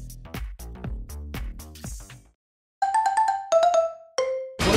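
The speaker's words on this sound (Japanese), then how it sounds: "なんだ。 電話ですか。" Phone ringtone playing during a card-guessing game: after a stretch of music, a series of bright electronic chime notes rings out clearly and fairly loud, repeating in short bursts with no talk over it.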